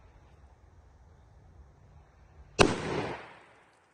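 A single loud, sharp blast from a shotgun firing a full-gauge slug at 3A body armor during ballistic testing, with a brief echoing decay after a quiet lead-in.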